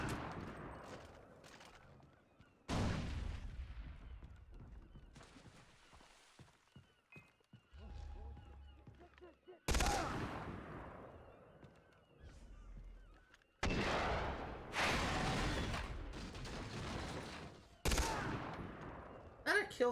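Gunfire in the game Far Cry 3: sharp loud shots and short bursts recur every few seconds, each trailing off into a ringing decay, with quieter gaps between volleys.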